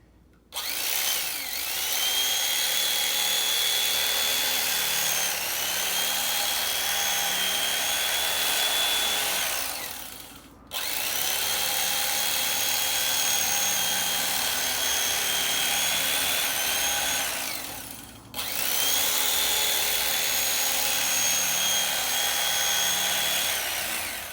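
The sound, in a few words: electric knife cutting face shield material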